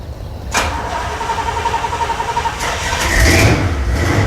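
A car engine cranks and catches with a loud, close start, then settles into a rough, throaty idle with a pulsing rhythm and a slight rise in revs.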